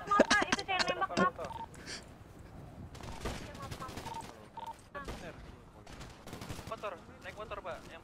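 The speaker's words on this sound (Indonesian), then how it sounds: "Eh, itu ditembakin gua tuh." Rapid bursts of gunfire in a roleplay video game, loud and clustered near the start, then scattered shots continuing under excited talk from several players.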